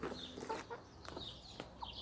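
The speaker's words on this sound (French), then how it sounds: "Et tu regardes manger les poules." Hens in a backyard coop cluck softly while pecking at food, a scatter of short, close clucks and chirps over quiet rustling.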